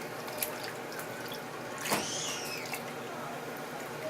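Wool is squeezed underwater in soapy water, giving faint steady watery sloshing with small drips and one brief squelch.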